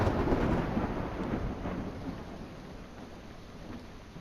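Steady rain hisses continuously with a low rumble beneath it, a dense wash of noise that holds level throughout without voices.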